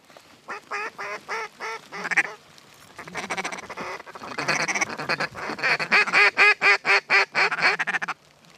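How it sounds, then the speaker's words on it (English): Mallard ducks quack during a waterfowl hunt, giving loud, close, repeated calls in quick rhythmic bursts that keep coming through the whole stretch, with some honking mixed in. "Mallard."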